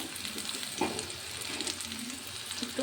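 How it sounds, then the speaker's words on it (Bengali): Pumpkin leaves and bata fish crackle softly in hot oil in a pan, a steady, fairly quiet sizzle with small pops scattered throughout. "গরম তেলের মধ্যে সব পাতাগুলো দিয়ে দিলাম। এবার এর ওপর মাছগুলো দিয়ে দেব।"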